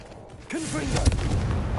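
A fiery Confringo blast spell goes off in Hogwarts Legacy, a loud rumbling boom with a crackling tail that swells mid-clip and carries on under a short spoken word.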